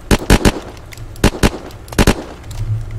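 A Russian assault rifle in Unturned fires in short bursts, two or three sharp, loud shots at a time spaced across the clip, with a low hum between the bursts.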